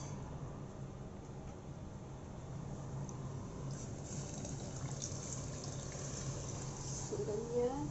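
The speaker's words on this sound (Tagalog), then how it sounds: "Dagdagan natin ng tubig." Water poured into a pot of sautéed mung beans and browned pork, a faint, steady trickling and splashing that continues throughout.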